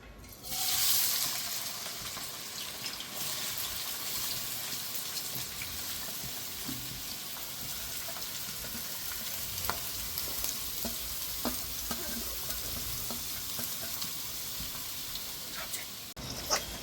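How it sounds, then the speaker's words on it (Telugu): Onions frying in oil in a pan for spicy egg curry, a continuous close sizzle with small crackles and pops throughout, loudest at the start when they hit the oil, no talking. "ఇప్పుడు ఉల్లిపాయలు వేసుకోవాలి. ఆయిల్ పోసుకున్నాం కదా."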